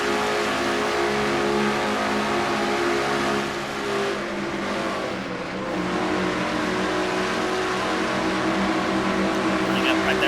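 Race cars at Michigan roar in a steady, loud engine drone with rising revs and a brief dip midway, running under continuous race commentary.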